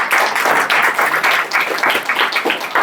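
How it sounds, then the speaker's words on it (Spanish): A school audience applauds, a dense burst of many hands clapping together at close range that holds steady throughout, with a faint voice underneath. "Aquí podéis hacer un super aplauso si queréis."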